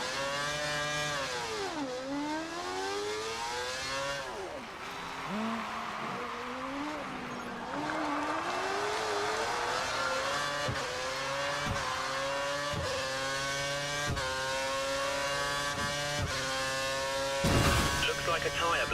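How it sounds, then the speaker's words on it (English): An F1 race car in the game F1 2013 revs hard out of a hairpin corner, its engine note climbing through several upshifts toward high speed, loud and continuous with a brief burst of noise near the end. "we need you to accelerate towards the hairpin corner, turn in at the correct point, hit the apex, and accelerate past 185 miles per hour out of the corner"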